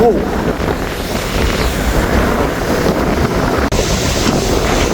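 Strong storm wind roars across a seashore at Kankesanthurai during a low-pressure system, a steady loud gusting rush with surf and microphone buffeting mixed in throughout.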